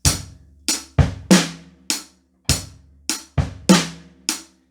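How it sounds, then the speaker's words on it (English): Drum kit playing a sparse groove: sharp hi-hat hits with deep bass drum thumps placed between them, each ringing out briefly before the next stroke. "When they try to add the bass drum between the hi-hat notes"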